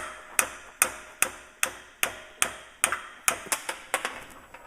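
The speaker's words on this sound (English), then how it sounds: "This is just one of my impact sockets to drive that bearing and seal" A 7/8 deep-wall impact socket is struck about a dozen times in a steady rhythm, each sharp metallic hammer blow ringing briefly, driving the bearing and seal out of a 1962 Corvette C1 steering gear box.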